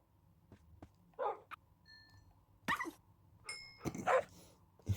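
Dogs in a video game yelp and whimper in a few short, separate bursts, moderately loud over a low background hum.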